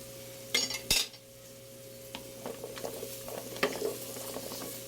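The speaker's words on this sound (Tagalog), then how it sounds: "lalagay ko na po ang sitaw" String beans (sitaw) dropped into a pot for vegetables in coconut milk, a couple of sharp clattering knocks early on followed by softer scattered taps and faint stirring, close and moderately quiet.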